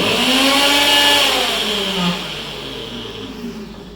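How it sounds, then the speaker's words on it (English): Mixer grinder blending a healthy sandwich sauce, a loud high-pitched whine that winds down partway through as the motor slows, then runs lower and fainter toward the end. "So let's put it back for the final grind."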